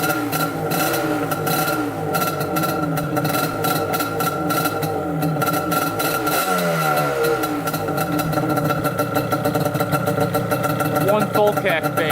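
A Yamaha Banshee ATV engine fires and settles into a rough, buzzing two-stroke idle, loud and close, with irregular revving pulses throughout.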